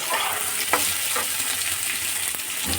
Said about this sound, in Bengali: তারপরে কুমড়ো এই সবজিগুলোকে দিয়ে হালকা করে একটু ভেজে নিচ্ছি